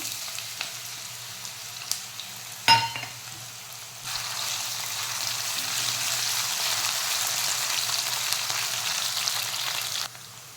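Potatoes drop into hot oil seasoned with mustard seeds and cumin for Gujarati-style poha, a clink and splash followed by a steady, close sizzle of frying that holds for several seconds.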